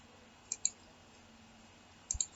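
Two pairs of quick, crisp computer mouse clicks sound close and faint in a quiet room during AutoCAD work, with a short pause between the pairs.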